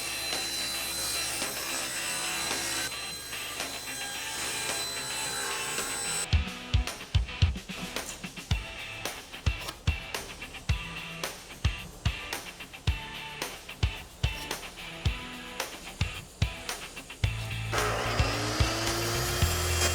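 A jigsaw cuts angled wooden side pieces for a small woodworking build, first as a steady motor whine and then as a fast run of sharp, rhythmic cutting strokes. The sawing is close and loud, with no talking.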